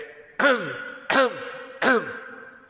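A man clears his throat three times in a row, evenly spaced, each a short harmonic vocal sound that falls in pitch, close and fairly loud in a quiet room.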